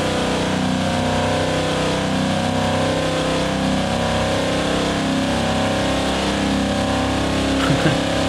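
Car engine held at full throttle in the driving game BeamNG, a loud, steady, sustained roar with no letting off, heard alone.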